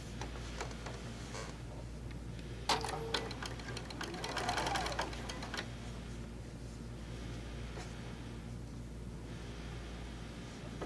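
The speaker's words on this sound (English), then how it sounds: "we're going to line this up and sew my square" A sewing machine stitches a quilt square with a steady low mechanical hum and rapid rattling, bursting louder midway, close and faint without talk.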